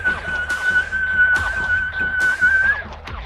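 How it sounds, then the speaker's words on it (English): A loud, sustained whistle holds one steady pitch for almost three seconds before cutting off, with scattered clatter and thumps around it. "you hear this huge whistle"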